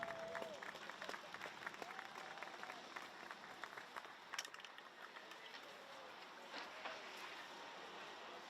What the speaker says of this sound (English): please give them a round of applause and a big cheer